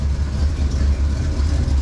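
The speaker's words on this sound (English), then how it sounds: "tomorrow this is going to get a new exhaust, because if you can hear that," A Cadillac engine with a leaking exhaust idles with a steady, loud, low rumble and an uneven puffing throb, running briefly on its own.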